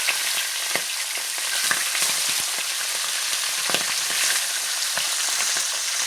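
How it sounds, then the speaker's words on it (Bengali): Pieces of fish fry in hot oil until browned, giving a loud, dense, continuous sizzle and crackle with occasional sharper pops, heard close up and without voices. "সুন্দর করে লাল লাল করে মাছটা আমি ভাজা করে নেব।"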